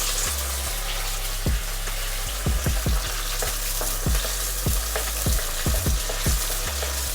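Curry leaves hit hot wood-pressed sesame oil in a clay pot, giving a steady close sizzle and spatter with repeated sharp pops and crackles throughout, no talk.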